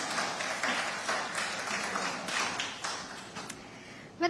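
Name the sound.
audience applause at a conference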